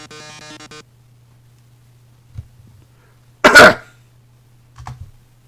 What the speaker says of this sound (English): That's what a robot coughing sounds like.